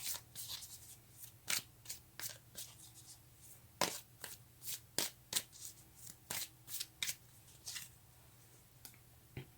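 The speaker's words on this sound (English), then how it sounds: "let's take a card for the Nine of Wands" Tarot cards being shuffled by hand during a love reading, a quiet run of crisp, irregular riffling snaps and slides, soft and fairly close, with no talking.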